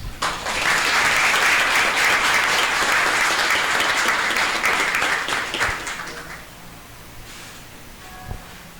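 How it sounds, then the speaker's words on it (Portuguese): Audience at a formal session in a civic chamber breaks into dense, sustained applause for several seconds, then the clapping thins and fades into quieter room noise with a few scattered claps. "Podem aplaudir."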